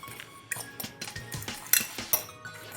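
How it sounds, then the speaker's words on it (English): Salt and brown sugar being stirred together in a bowl, a spoon scraping and clinking against the sides in an uneven series of close, light knocks. "I just chuck that into a bowl and give it a bit of a stir up."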